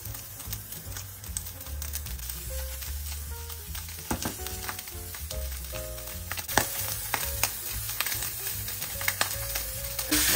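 Steak sears in smoking olive oil in a pan, giving a continuous close crackling sizzle dotted with sharp pops and spits, with no talking over it.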